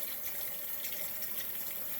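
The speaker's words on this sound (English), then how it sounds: "Alright, you just pour it in there." Liquid poured into a container makes a steady, faint stream of running water with a soft hiss, continuous for a couple of seconds and heard alone.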